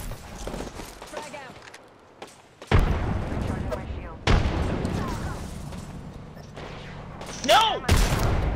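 A grenade goes off in a video game, one of several loud booming blasts and bursts of gunfire that cut through a noisy battle, with a voice talking over the action.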